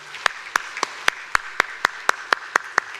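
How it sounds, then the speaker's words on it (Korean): A church congregation claps for a youth choir in a single sharp, evenly spaced rhythm, about a dozen crisp claps in quick succession, close and distinct against a quiet background. "오늘 감사의 박수를 함께 하겠습니다"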